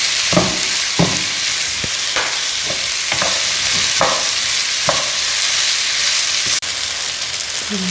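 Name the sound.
onions sautéing in a pan with salt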